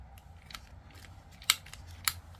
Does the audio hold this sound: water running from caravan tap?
no